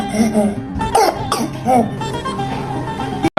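A man gives a string of exaggerated, fake-sounding coughs and throat clearings, several harsh bursts close to the mic in quick succession, then a short pause.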